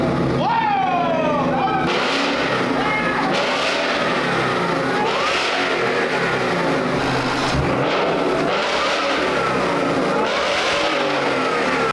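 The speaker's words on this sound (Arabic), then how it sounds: "الصوت اللي طلع من الموتور كان عنيف جدا، نغمة السوبر تشارجر وهي بتسحب هوا كأنها بتتنفس لأول مرة" A 2015 Ford Mustang GT engine fitted with a supercharger revs repeatedly, rising and falling in loud surges with a whine climbing on each pull, and voices are heard over it.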